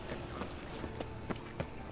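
Horse hooves clip-clopping at a walk in The Witcher 3: Wild Hunt, a series of evenly spaced, soft hoof knocks over a low ambient bed, fairly faint.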